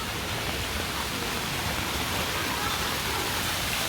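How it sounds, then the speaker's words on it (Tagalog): Rushing floodwater surges through an overflowing creek in North Caloocan during Typhoon Carina, a continuous dense roar of fast-moving water, loud and unbroken from start to finish. "ito yung maagos yung tubig dito."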